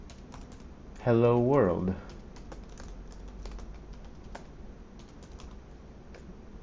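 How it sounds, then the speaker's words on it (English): Light, rapid keystrokes on a computer keyboard while an email is typed, a close ticking patter running throughout, briefly interrupted by a short spoken phrase near the start. "I'm going to type hi,"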